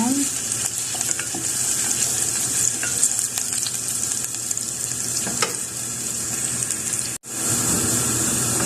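Garlic sautéing in oil in a pan for a Filipino beef broccoli dish, a loud, steady sizzle and crackle that runs continuously, briefly cutting out near the end before resuming.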